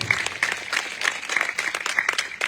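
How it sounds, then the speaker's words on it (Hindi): Crowd applause at a political rally in Mirzapur, Todabhim, a dense burst of clapping that stays loud and steady from start to finish. "जोरदार तालियों से स्वागत"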